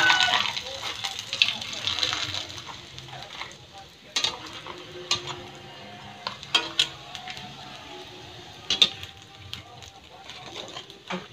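Cassava chips fry in hot oil with a constant crackling sizzle, broken by sharp scrapes and clatters of stirring, close and fairly loud, with occasional voices nearby.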